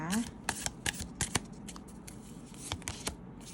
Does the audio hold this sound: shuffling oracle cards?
yes